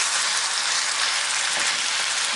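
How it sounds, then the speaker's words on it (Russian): Minced meat sizzles in a frying pan, giving a steady, dense hiss like rain on a surface, close and even throughout with no one talking. "А в эту сковороду опускаем фарш."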